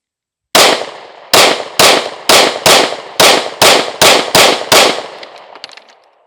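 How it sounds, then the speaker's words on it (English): Ten rapid pistol shots from a handgun fitted with a Shield Plus carry compensator, fired fast at a target on a range, loud sharp cracks in an even string, each trailing off with a brief ringing decay, no talking. "we ran those last 10 rounds faster than we ran the shield comp rounds"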